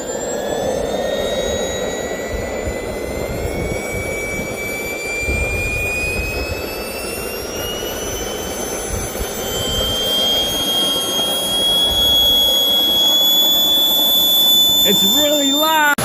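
RC jet turbine engine roars steadily with a piercing whine that climbs in pitch as it throttles up, loud and close, ending with a brief rattling flutter.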